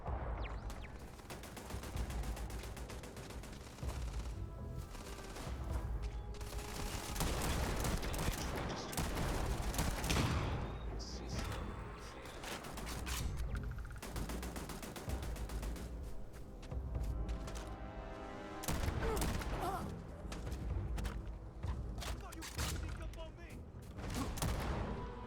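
Automated turrets firing on enemies in Starfield on Very Hard difficulty, bursts of rapid gunfire running continuously and loudly throughout, with game effects mixed in.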